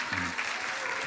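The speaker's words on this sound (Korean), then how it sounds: "우리 박수 한번 쳐주시죠" Applause rises from a church congregation during a Sunday service, a steady wash of many hands clapping that holds evenly throughout, with a brief voice heard at the start.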